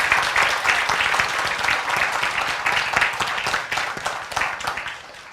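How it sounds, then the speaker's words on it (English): An audience at a Buddhist teaching claps its hands together in a steady, fairly even burst of applause that carries on for several seconds with little talk over it. "Clap our hands"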